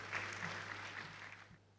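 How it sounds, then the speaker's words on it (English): Audience applause fills an official ceremony attended by government representatives, a steady, dense clapping from a crowd that carries evenly throughout and fades slightly at the end. "Let's please give him a round of applause."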